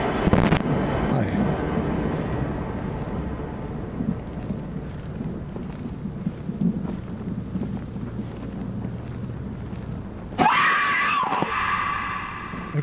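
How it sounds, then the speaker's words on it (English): A loud, harsh scream breaks out near the end of a horror game, standing out above a dense, rumbling background of stormy noise. "Get somebody's face and scream like that."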